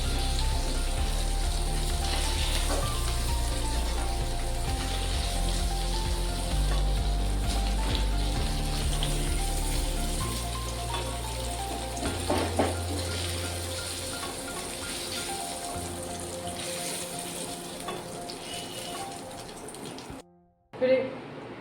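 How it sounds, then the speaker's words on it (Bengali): Paneer pieces fry in hot oil in a home kitchen, a steady close sizzle that thins out in the second half before ending abruptly, with a clatter at the end. "পনিরগুলোকে হালকা করে ভেজে নিয়েছি, হালকা হালকা কালার চলে এসেছে, এখন উঠিয়ে নেব।"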